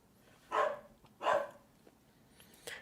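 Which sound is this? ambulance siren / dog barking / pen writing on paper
dog barking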